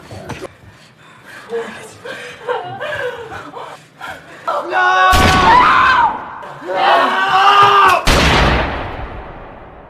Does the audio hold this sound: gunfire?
yes